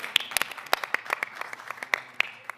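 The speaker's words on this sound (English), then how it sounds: "Let's give an applause to the audience" Scattered, sparse clapping from a small audience at a NewSpace talk on talent drain, individual sharp claps spaced irregularly over a quiet room, with little other sound.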